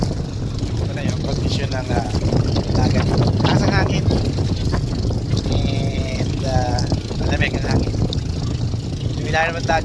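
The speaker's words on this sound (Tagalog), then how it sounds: "Ito na yung condition ng dagat. Taas ang hangin." Strong wind buffets the microphone on a boat out at sea off Calatagan, Batangas, a loud continuous rushing roar with water and engine noise beneath it, and voices talking over it.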